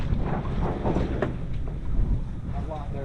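Wind buffeting the microphone aboard a sailboat on a sea trial with new sails, gusty low rumble with water and rigging noise, while a person talks over it.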